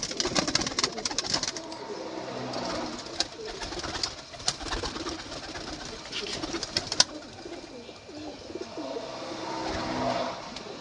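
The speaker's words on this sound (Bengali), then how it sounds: "সব রানিং ওড়াই পায়রা এগুলো।" Madrasi flying pigeons, a loft of running male birds kept for sale, coo steadily in low repeated murmurs close by, with fluttering and scattered clicks throughout and no talk.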